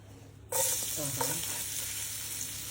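Garlic dropped into a hot pan of coconut oil bursts into a loud, steady sizzle that starts suddenly and holds, with a few stirring scrapes under it.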